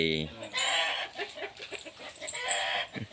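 Chickens cluck softly in the background while someone talks over them, the birds' calls low and scattered.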